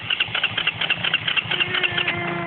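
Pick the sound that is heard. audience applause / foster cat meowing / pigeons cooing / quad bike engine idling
quad bike engine idling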